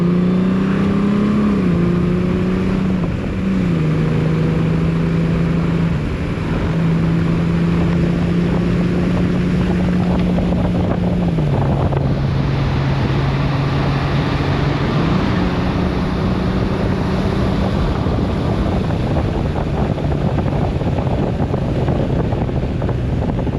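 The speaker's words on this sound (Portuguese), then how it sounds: "só ouvir aqui estes 6 cilindros da Goldwing" A six-cylinder Honda Goldwing motorcycle is ridden on the road, its engine a smooth, continuous drone that shifts pitch several times as it speeds up and eases off, under constant heavy wind rush.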